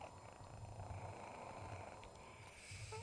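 A close, low rumbling snore-like purr from a cat, rhythmic and soft, with faint background hiss and no voices.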